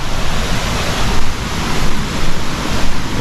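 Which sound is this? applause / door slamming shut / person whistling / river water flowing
river water flowing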